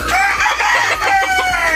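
Chickens on a Filipino gamefowl farm with pumpkin, sweater and white hackle breeds: close, loud clucking mixed with rooster crowing, overlapping in dense bursts.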